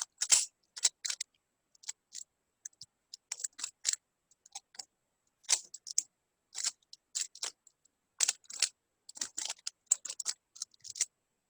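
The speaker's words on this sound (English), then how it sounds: "I'll shuffle the cube entirely" A Rubik's Cube is shuffled by hand, giving close, rapid plastic clicks and clacks in uneven bursts separated by short pauses, with no talking.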